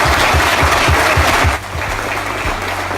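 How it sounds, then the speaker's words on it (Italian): Audience applause for Graziella at a Veneto gathering, a dense loud clapping wash over the first half, then thinning to a lighter steady patter with a low rhythmic thump under it. "Intanto vi chiedo un grande applauso per Graziella"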